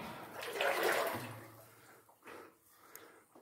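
Water splashing as someone dives in: a loud rushing splash, then smaller sloshing splashes that fade out, with no voices.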